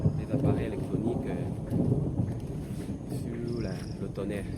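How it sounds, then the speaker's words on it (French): Low thunder rumbles through a storm in a forest, rolling in long, heavy swells close by, with a voice talking over it. "Vous entendez comment le tonnerre gronde"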